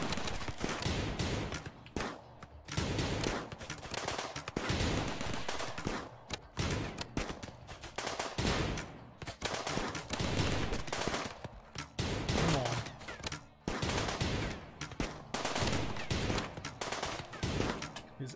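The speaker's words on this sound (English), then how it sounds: "Everybody shooting here." Dense, continuous gunfire rattles through a RimWorld raid battle, with overlapping rapid shots and bursts forming a steady barrage throughout.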